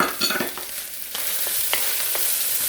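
Onions, shrimp and mushrooms sizzle in a hot pan for Chinese sticky rice, a steady close frying hiss broken by the scrape and clatter of stirring.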